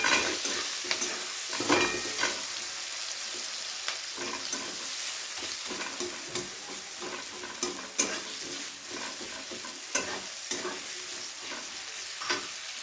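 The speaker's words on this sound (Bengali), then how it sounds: "পেঁয়াজ কুচিটাকে খুব ভালো করে হালকা করে ভেজে নেব প্রথমে।" Chopped onion frying in oil, a steady close sizzle with frequent scraping and stirring clatters from a spatula against the pan, no voices over it.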